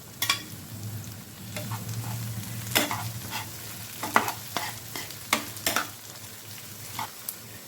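Chopped green chilies are stirred into fish frying in a pan for dry chili fish, with a steady sizzle under a string of sharp scraping and clattering stirring strokes, close and fairly loud, no voices.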